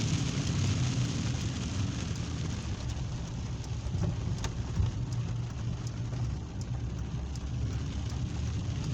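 Steady rain from a severe thunderstorm in Van Wert, Ohio pours down with a low rumbling background, an even wash of patter and occasional sharp drips, no voices.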